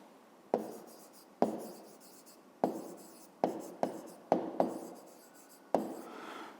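A pen strikes and scratches on paper as a speed value is written down for a maths exercise, giving a series of sharp taps, each followed by brief faint scratching, close and alone.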